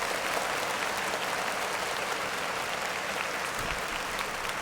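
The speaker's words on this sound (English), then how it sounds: "let's go ahead and clap it up for the announcements" Sustained audience applause at a Monday church service, dense and steady clapping throughout, fairly loud and unbroken, with no talk over it.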